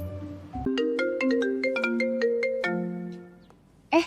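A phone rings with an incoming call, playing a bright melodic ringtone of repeated chiming notes for about three seconds, loud and close, before a short noise at the end.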